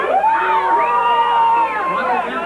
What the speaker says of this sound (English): Once again, the crowd rallies behind this